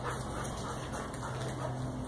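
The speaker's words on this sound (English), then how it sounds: "Here's puppies outside." Puppies outside whimpering softly, a faint continuous whine under steady outdoor background noise.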